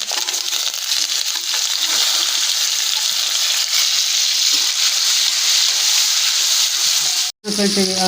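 Onion and chana dal frying in a pan for vangibath, a loud, dense, continuous hiss of frying with stirring scrapes right up close that cuts off sharply near the end, followed briefly by a different tone.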